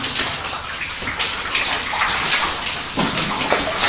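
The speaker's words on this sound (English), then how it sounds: "our water can here, and fill up on this spring right above us" Spring water pouring steadily into a water can inside a gold mine, a loud, continuous splashing gush that fills the whole stretch with no voices.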